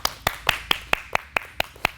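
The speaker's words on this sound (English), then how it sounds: "Please give him a round of applause." Nine sharp, evenly spaced hand claps ring out alone, close and crisp, in a steady rhythm as an audience welcomes Anthony Matthews, a guest on a talk show.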